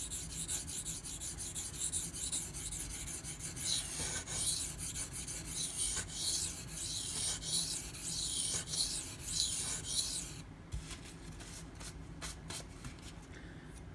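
A Spyderco Manix 2 knife blade is sharpened on a Pride Abrasive stone: close, steady rasping strokes repeat in a quick back-and-forth rhythm, with a brief pause near the end before the scraping resumes.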